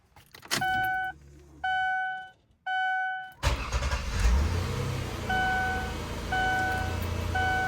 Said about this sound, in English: Let's give her a crank.